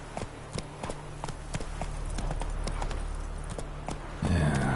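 Roach the horse galloping in the video game Witcher 3, a steady run of clip-clopping hoofbeats close by, with a heavier thump and rush of movement at the end.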